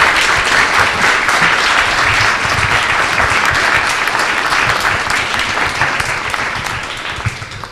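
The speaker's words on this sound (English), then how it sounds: "So yeah, big applause, I think, for the speakers." Sustained, dense applause from an audience thanking the speakers at the close of a panel discussion on regional crowdfunding, loud and steady before tapering slightly at the end.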